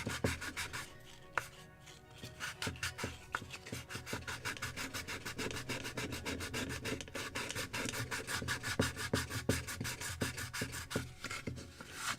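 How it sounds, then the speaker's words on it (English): Sandpaper rubbing over glued wooden planking on a Midwest kit model of a Muscongus Bay lobster smack, a steady run of close, rapid scratchy strokes with a few sharper knocks, no talking. "I probably can sand a little more this side too."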